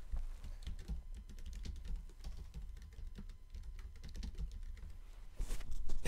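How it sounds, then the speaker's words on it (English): Typing on a computer keyboard, a steady run of soft, close key clicks over several seconds while a product description is entered on a website, with a slightly louder flurry near the end. "Type your description."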